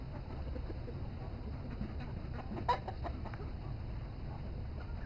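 Chickens cluck softly inside a coop in freezing winter. The sound is fairly faint and continuous, with one brief, louder squawk partway through.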